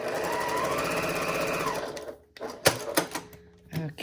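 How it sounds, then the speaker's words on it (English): A sewing machine runs a quarter-inch seam on test strips, a fast continuous stitching whir for about two seconds, followed by several sharp clicks and knocks as it stops. "we're going to stitch down that"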